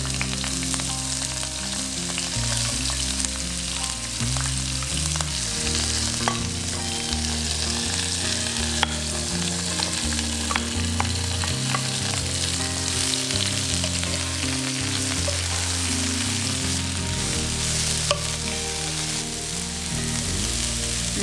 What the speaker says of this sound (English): Let's get a little bit of olive oil in the pan and add in all our veggies.